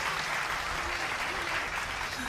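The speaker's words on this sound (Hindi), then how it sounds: "एक बार ताली साहब बजा दो" An audience at a Hindi comedy poetry gathering (hasya kavi sammelan) applauds, a steady, dense roar of clapping that holds evenly throughout at moderate volume.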